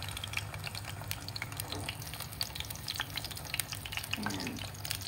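Fish frying in a small pan, a steady sizzle with scattered crackles and pops, fairly quiet and close, with occasional stirring.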